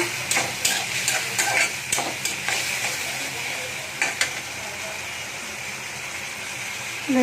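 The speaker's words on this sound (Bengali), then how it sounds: "একটু জিরে পাউডার, একটু ধনে পাউডার আর একটু লঙ্কার গুঁড়ো দিয়ে এটা কষতে থাকবো।" Spice masala for egg curry sautéing with turmeric, cumin, coriander and chilli powder, a close steady sizzle punctuated by a quick series of spatula scrapes and taps early on, then continuous frying.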